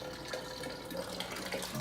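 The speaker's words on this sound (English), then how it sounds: "the dirtier it is, the longer it will take for the water to drain out" Water drains out of a dirty filter into a bucket, a faint, continuous trickle and splash that runs steadily without a break.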